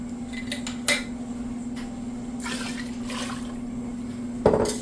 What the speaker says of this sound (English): It's time to add half a gallon of liquor.